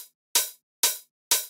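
Hi-hat sample without EQ, struck three times at an even pace, each hit a bright, crisp burst that decays quickly into silence.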